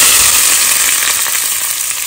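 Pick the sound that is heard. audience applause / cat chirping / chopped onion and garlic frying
chopped onion and garlic frying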